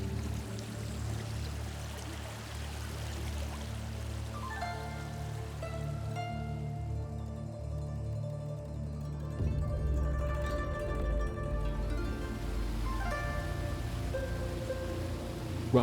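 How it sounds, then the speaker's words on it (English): Clear creek flowing through a valley on Mount Zhongnan, a steady close babble and trickle of water that swells a little partway through, with soft tonal music underneath and no speech. "Limpid creeks snake through the valley down to the Weishui River"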